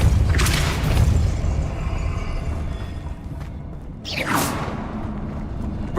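A Depulso force spell fires in Hogwarts Legacy with a heavy booming whoosh, followed by a low rumble and a second swooshing burst a few seconds later.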